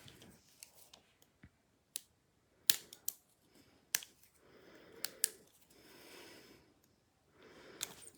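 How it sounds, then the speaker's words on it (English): Sharp scissor snips cut into stiff plastic packaging, irregular clicks and crackles up close, with quiet rustling and breathing between cuts. "Going for the scissors."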